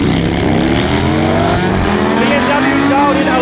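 A BMW K1300S and a Harley drag race at a motorplex bike night, their engines roaring loud and steady at close range for a few seconds, with a voice talking underneath.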